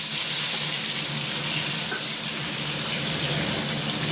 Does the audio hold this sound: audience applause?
no